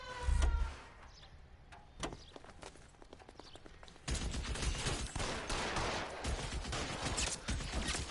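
Gunfire in the crime video game LA Noire, a scattered run of sharp shots that thickens into a steady, busier volley in the second half, fairly faint overall.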